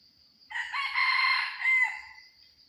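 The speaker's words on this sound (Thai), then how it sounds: "นี่มีไก่แถวนี้นะ" A rooster lets out a single loud, close crow that rises and holds for about a second and a half, standing alone in otherwise quiet surroundings.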